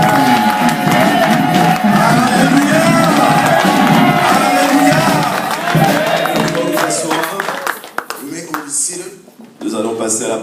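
A church congregation raises loud acclamations to God, a dense roar of overlapping voices, shouts and clapping that drops away into quieter scattered voices near the end.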